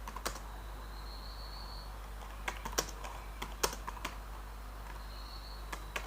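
Scattered keystrokes on a computer keyboard as code is typed, irregular sharp taps spread across several seconds over a quiet low hum.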